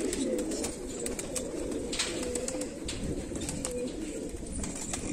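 A pair of pigeons, golden and teddy-type fancy breeds in a loft in R.S. Pura, Jammu, cooing in soft repeated throaty calls amid scattered chirps and rustling, moderately close with no speech.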